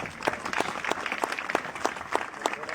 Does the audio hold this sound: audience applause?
yes